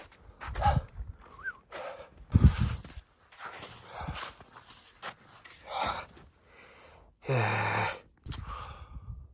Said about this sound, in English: Listen to my breath.